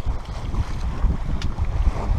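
Wind rushing over a calm sea aboard a sailboat in about 9 to 10 knots of breeze, a steady low buffeting roar with no voices.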